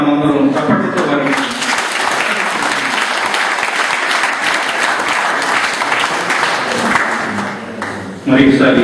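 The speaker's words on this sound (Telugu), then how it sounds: "వాళ్ళందరినీ కూడా మనందరం చప్పట్లతో వారికి" An audience at a Telugu community gathering in Rome claps for the cooks, sustained loud applause from a crowd that fades out near the end, with a voice briefly heard over it.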